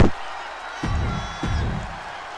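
Crowd noise from the WWE 2K25 wrestling game, a loud steady arena roar broken by several sharp impact thumps, with a voice talking over it.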